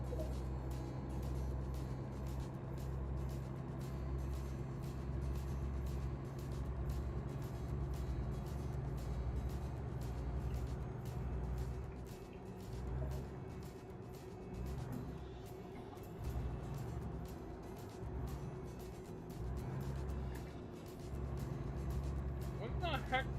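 A truck drives in American Truck Simulator, its engine a steady low drone with rising and falling revs and occasional shifts, running under a voice throughout.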